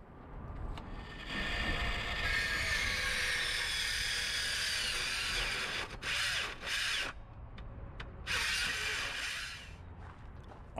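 A 12-volt cordless saw cuts through 2x6 lumber, a loud sustained buzzing whine with brief dips and restarts toward the end of the cut, heard alone at close range.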